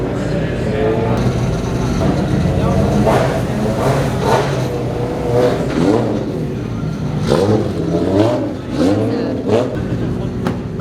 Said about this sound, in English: We've got cars heading onto the track now